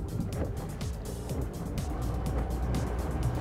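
Twin Torqeedo Deep Blue 50R electric outboard motors pushing a Phoenix 290 boat under throttle, a steady whirring drive with rushing water and wind noise throughout, no talk.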